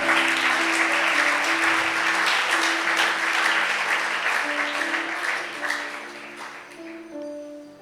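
A church congregation applauds and cheers at a Sunday service, sustained loud clapping mixed with voices and held musical tones, gradually fading toward the end.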